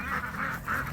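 Ducks on a farm give three quick nasal honking quacks, close and moderately loud, with no talk over them.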